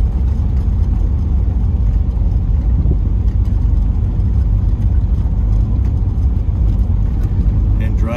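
A car with a cracked transmission cruises slowly along a dry lake bed road in the Mojave National Preserve, producing a steady close low engine and road rumble with faint wind noise, while a person talks.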